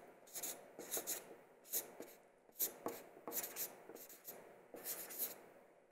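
A word is written by hand in quick, rhythmic bursts of close, quiet pen strokes with short pauses between them.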